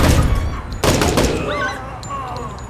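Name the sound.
flashbang grenade detonating in Door Kickers 2 video game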